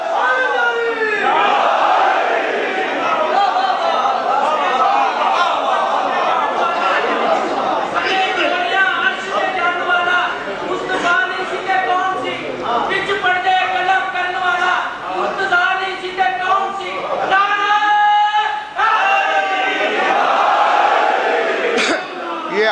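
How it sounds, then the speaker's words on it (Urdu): Large majlis congregation chanting the religious slogan 'Haq Ali' in unison, a loud, dense wall of massed voices with rhythmic swells and bursts of shouting that carries on throughout. "آپ بڑے جھوم جھوم کے نعرے لگاتے ہیں روز علی حق علی حق علی حق"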